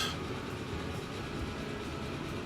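A train rolls past in the Transport Fever 2 video game, a steady dense rumble and rattle of cars at constant loudness throughout, with no speech.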